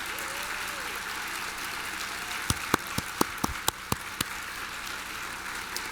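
An audience applauds board members at the State of the City University of New York address, a steady wash of clapping with a few sharp, close claps standing out near the middle.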